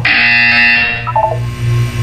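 A buzzer tone in the video game Portal 2 sounds loud and steady, with bright harmonic layers holding for about a second before fading under a low continuous hum and a brief chirp.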